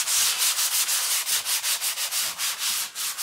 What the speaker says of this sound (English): And it's a very light sanding.